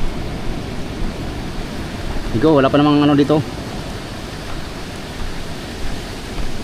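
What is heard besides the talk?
big typhoon waves on the shore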